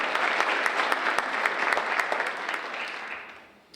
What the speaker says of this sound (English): give a round of applause for all the teachers who have worked with them thus far